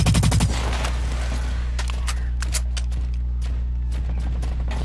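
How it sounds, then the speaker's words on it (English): Rapid assault rifle fire in Blacklight Retribution, a burst of closely spaced shots at the start and then scattered single and short volleys over a steady low game hum. "Assault rifle, that's what I have right now."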